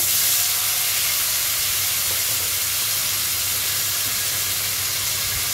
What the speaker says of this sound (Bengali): তো দেখো বন্ধুরা, তেল গরম হয়ে গেছে। এই গরম তেলে আমি এখন একটু টমেটো